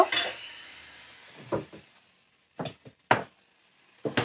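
Masala being stirred in a pan with a little oil, a few scattered scrapes and clinks of a spoon against metal separated by quiet gaps, close by.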